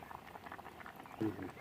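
Faint, soft bubbling of a pot of spiny amaranth curry boiling on a stove, with a quiet voice briefly rising over it.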